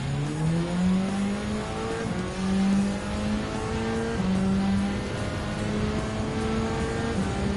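Race car engine in the video game Gran Turismo 7, racing a final lap: a loud, steady engine drone with rising pitch sweeps as it revs up through the gears, continuous throughout with no talk.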